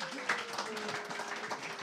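Audience at a music tribute event applauds a performer, a soft, distant patter of many hands clapping continuously, with a voice speaking faintly over it.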